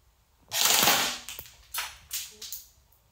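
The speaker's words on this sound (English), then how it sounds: "We're full autoing." Airsoft M4 rifle fired at a TV, a loud dense burst of rapid shots followed by several shorter sharp bursts of cracks and impacts, close by.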